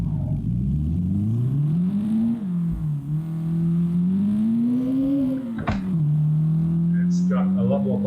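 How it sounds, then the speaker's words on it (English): Turbocharged two-litre SR20 engine in a Nissan S13 Silvia, PC game mod, revving continuously with rising and falling pitch through gear changes, a sharp shift blip near the middle, loud and steady throughout. "So now we've got a turbo in a 2 litre SR20 S13 Silvia."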